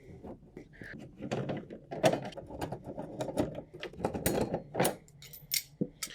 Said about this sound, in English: So let me take these screws out real quick.